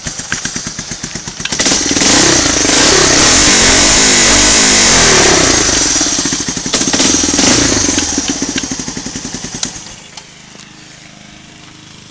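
An ATV engine with a homemade straight pipe exhaust revs hard and loud, climbing from a deep bass idle into a sustained high-pitched roar, then drops back to a rough idle.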